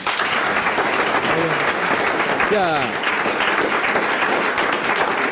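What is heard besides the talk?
studio audience applause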